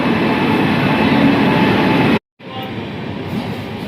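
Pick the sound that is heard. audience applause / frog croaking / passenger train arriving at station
passenger train arriving at station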